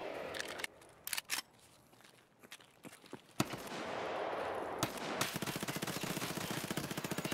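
Automatic rifle fire in Escape from Tarkov: scattered single shots, then long rapid bursts of close gunfire that run almost without a break through the second half.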